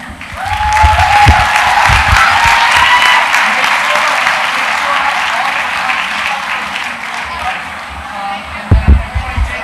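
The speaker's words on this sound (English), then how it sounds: "Can we have another round of applause, please" Audience at a school winter concert breaks into sustained, loud applause of many hands clapping, a dense crowd roar that swells early, holds steady, and trails off with a few louder bursts at the end; a voice speaks over it.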